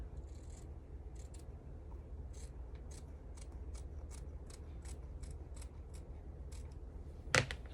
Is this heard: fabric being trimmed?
yes